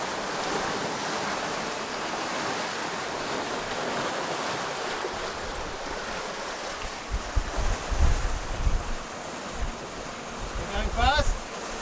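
Rushing sea waves and churning white water from a sailboat in strong wind, gusts buffeting the microphone, growing rougher with heavier surges near the end.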